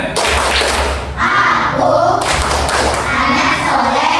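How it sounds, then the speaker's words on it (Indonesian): A school class claps through the rhythmic 'tepuk anak soleh' routine, with loud, dense group clapping and thuds in patterned bursts. Children's voices are mixed in throughout. "Ya, tepuk anak soleh."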